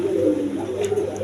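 A male Bontinet pigeon gives one short, close, throaty coo, clear and alone.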